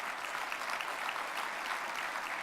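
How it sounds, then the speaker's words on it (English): An audience at a State of the City address in Oklahoma City applauds, a continuous even patter of many hands heard at a distance, moderately quiet and steady. "go ahead and applaud."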